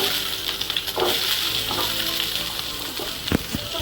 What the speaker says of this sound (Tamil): அப்புறம் நறுக்கி வச்சுக்கிற வெங்காயம் போடுறேன்.